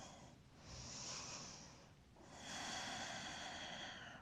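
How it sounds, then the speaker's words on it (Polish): Long, slow inhale and exhale during a yoga stretch, two soft airy breaths heard close and quiet with no talk. "Długi wdech i wydech."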